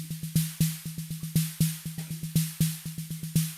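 A programmed snare drum pattern with sharp, evenly spaced hits and periodic louder accented strokes, repeating in a dry, close, mechanical rhythm with no voices.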